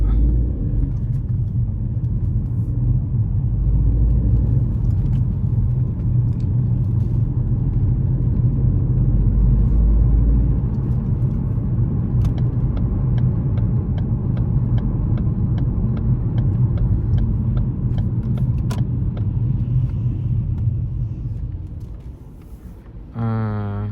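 Steady low road rumble from inside a car moving through heavy traffic on wet roads after rain in the UK, a continuous near drone that tapers off near the end, with no talking.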